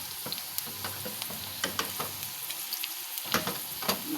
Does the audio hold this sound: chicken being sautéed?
yes